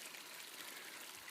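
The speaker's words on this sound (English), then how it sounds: "good, clean spring water and plenty of it" Clean spring water runs in a stream plentiful enough to fill 1,000 gallons, a faint, steady trickling and babbling flow with no voices.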